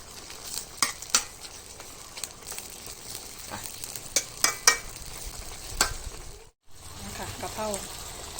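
Bamboo shoots and pork stir-fry in a wok, with a steady sizzle under repeated sharp clacks of a utensil against the metal and a brief silent gap near the end.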